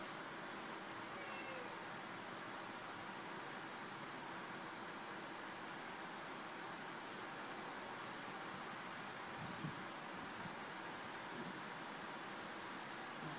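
A faint cat meows a few times against a steady broadband hiss, distant and soft.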